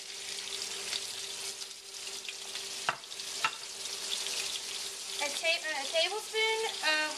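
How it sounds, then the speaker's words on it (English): Shrimp sizzle steadily in a hot pan for shrimp scampi, with a broadband hiss throughout, a couple of sharp clinks, and a brief brighter stretch near the end with a faint voice. "when you hear it sizzling, you know we're doing good"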